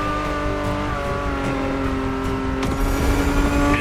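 A Ferrari engine revs in the racing game The Crew Motorfest, a sustained loud high-pitched wail building slightly toward the end, with no talk over it.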